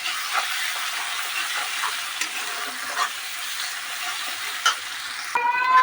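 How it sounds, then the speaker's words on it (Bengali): Chili and cumin-pepper spice paste frying in a pan for a prawn curry, a constant close sizzle broken by a few spatula scrapes, with a sharper, louder burst of frying near the end. "বেশ কিছুক্ষণ মশলাটা কষে নিলাম"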